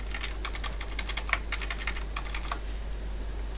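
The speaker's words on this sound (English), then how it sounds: "if I start pressing keys, it will appear to be working fine" Keys pressed on the keyboard of a homebuilt Z80 computer, a steady run of crisp clicks at an irregular typing rhythm, close and alone over a constant low electrical hum.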